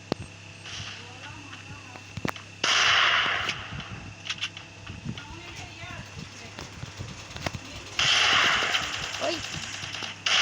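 Firecracker bombs go off on a person, a sharp crack followed by two loud crackling bursts of rapid pops, close and harsh, with voices around them.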